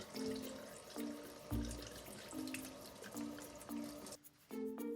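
Tap water runs steadily into a sink, rinsing potting soil from a bromeliad's roots, with a continuous faint splashing and intermittent humming pipe tones before the flow briefly cuts out near the end.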